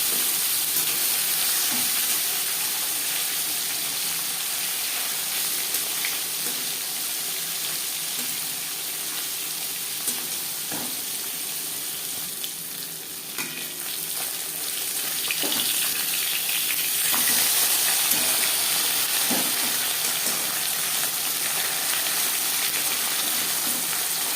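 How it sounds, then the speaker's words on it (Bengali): Sarputi fish rubbed with salt and turmeric hits hot refined oil in a pan, giving a constant, dense sizzle that carries throughout and grows slightly louder and brighter toward the end. "চার চামচ রিফাইন্ড অয়েল গরম করে নিয়েছি দিয়ে দেবো লবণ হলুদ মেখে রাখা মাছ"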